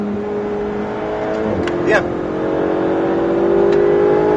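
A motorcycle engine hums and rises in pitch as it revs on a track, with a short spoken French riding instruction over it.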